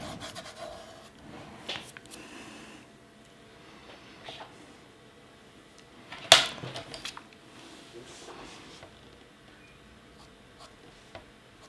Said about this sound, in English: so now I can blend it in a little bit, going over the shadow, going over everything, smooth out the paper